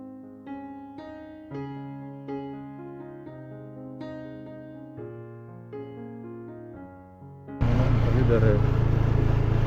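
Tonal sounds play for several seconds, then a loud, rushing roar of wind and engine noise from a motorcycle on the move takes over at the end.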